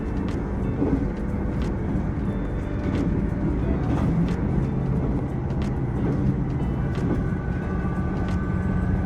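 A Japanese train runs along steadily, a loud continuous rumble and rattle from inside the car with occasional faint clicks and a muffled voice underneath.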